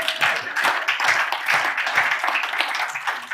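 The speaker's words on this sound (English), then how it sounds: "Give yourselves a hand clap." Students at the close of a college physics and faith lecture clap their hands. The applause is brief and lively, with distinct claps close by and no one speaking over it.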